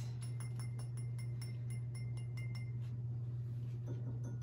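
Glass apothecary jar clinking as it is handled, a series of light, bright taps in a quick uneven rhythm, close and fairly faint over a steady low hum.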